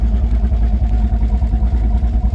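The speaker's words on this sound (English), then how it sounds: "So I'm basically just idling around the parking lot." Modified 1996 Ford Mustang with a 5.3 LS V8 swap, BTR Stage 2 cam, 4L80E transmission and Holley Terminator X Max, idling loud and close with a steady, lumpy, pulsing rumble.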